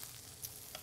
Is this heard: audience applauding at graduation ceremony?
no